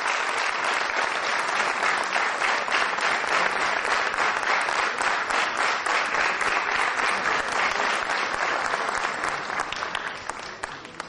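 Loud, sustained applause from an audience clapping for the teachers at a school event, steady dense clapping for about eleven seconds that thins slightly toward the end, with no speech over it.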